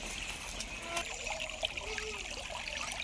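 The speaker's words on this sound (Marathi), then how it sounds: "इथं पाणी लावलंय आहे घासावर" Water trickling and splashing onto grass, a faint, continuous dribble with small bursts, close by and heard alone.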